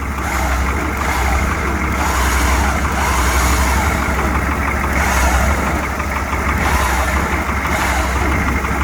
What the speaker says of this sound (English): the reason why I have the truck running is, of course, I don't want the battery to drain